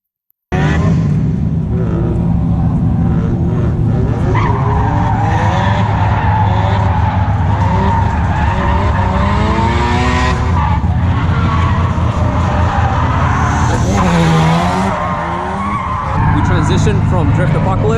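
A Nissan 350Z with a new engine setup and hydraulic e-brake drifts at a track, its tires skidding and squealing in long, loud sweeps over a steady engine roar. People talk over the noise.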